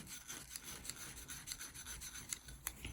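Corrosion is rubbed and rasped off the side of a Walbro carburettor from a Kohler-engined Atco lawnmower in quiet, repeated scraping strokes with irregular sharper scratches, close and faint.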